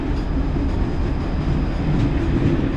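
A Turkish passenger train rolls past on the crossing track, a loud continuous rumble of wheels and cars with faint rhythmic clatter, close and unbroken throughout.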